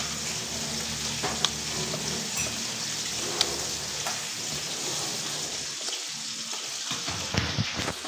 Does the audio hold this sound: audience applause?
no